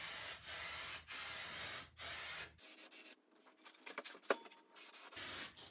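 Aerosol spray paint hissing in bursts onto wheels being fitted with 16.5 Humvee tires on a 1952 Ford build: four strong, steady blasts of about half a second each, then a quieter stretch of faint handling clatter and a clink, then another burst.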